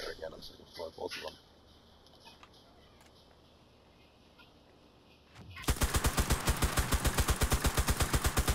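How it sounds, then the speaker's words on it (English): Gunshots hit a window in the shooter game CRSED: after several seconds of quiet, faint murmuring and small noises, a loud, fast, steady stream of automatic fire runs to the end. "Is that you shooting at the window?"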